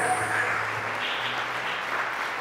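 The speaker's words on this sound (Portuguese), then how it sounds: "Faça barulho com as suas mãos para louvar a Deus" Congregational applause during a Sunday church service, a steady wash of many hands clapping together, moderately loud and sustained throughout with a faint higher tone ringing near the start.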